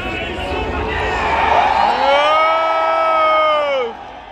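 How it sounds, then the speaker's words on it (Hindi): A packed stadium crowd at a Chennai Super Kings IPL cricket match roars and chants for Dhoni, a sustained loud wall of voices with a rising rhythmic chant that swells and then drops off. "सब चला रहे धोनी धोनी धोनी"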